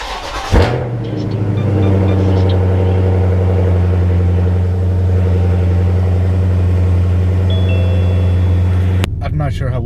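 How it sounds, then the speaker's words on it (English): A Dodge Charger SRT8's loud exhaust idles on a cold start with a deep, steady rumble right up close after a sharp start, then cuts off abruptly near the end. "that exhaust is kind of loud"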